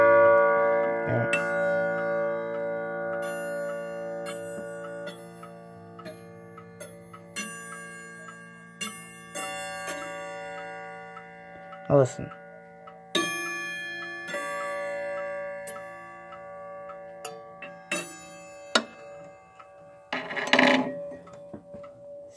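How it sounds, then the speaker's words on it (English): A decorative wall clock chimes in long, ringing tones that overlap and fade, with a few sharp knocks and clicks between them, close and fairly quiet; a voice briefly speaks. "Now that reminds me of a church clock or something."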